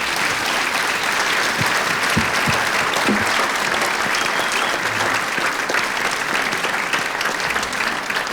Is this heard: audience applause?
yes